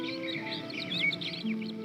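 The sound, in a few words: birds chirping and chattering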